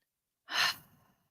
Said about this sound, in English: let us take a nice big breath in and out